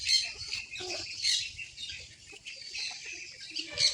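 A chicken of a Netherlands breed squawks and clucks in short, shrill bursts, close by, with brief pauses between calls and no speech.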